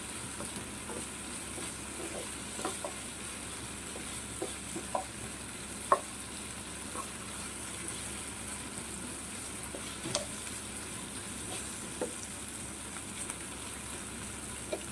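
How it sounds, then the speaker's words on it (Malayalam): Onion, carrot and capsicum fry in masala with a continuous, even sizzle, broken by occasional small clicks and taps of stirring throughout, and no voices. "സവാള, ക്യാരറ്റ്, ക്യാപ്സിക്കം ഇത്രയാണ് നമ്മൾ ഒന്ന് മസാലയകത്ത് സോസ് ചെയ്ത് വെക്കുന്നത്"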